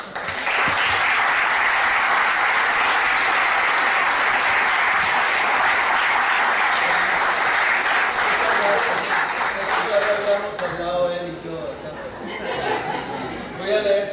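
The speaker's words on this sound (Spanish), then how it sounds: "todos con un aplauso le pidiéramos que lea un poco más" An audience claps at a poetry recital, with sustained, even applause filling most of the stretch before it thins out under chatter, light laughter and a voice speaking near the end.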